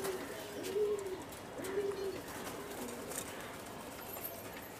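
Soft coos from a pair of Chila pigeons repeat a few times, low and rounded, over a steady background hiss with faint clicks.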